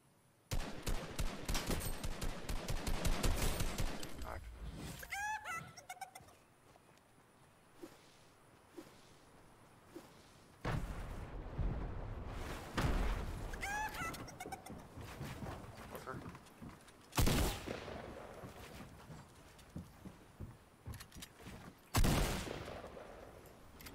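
Gunfire rattles through a video game firefight, bursts of rapid shots in several clusters with quieter gaps between them. A voice talks over it now and then.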